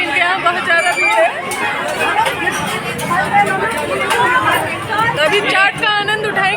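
Dense crowd chatter at a busy, popular chaat shop, many overlapping voices in a steady loud babble close around, with no single voice standing out.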